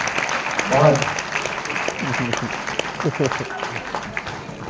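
Audience applause at a Hindi poetry gathering, a steady broadband patter of clapping that carries on under a voice speaking over it.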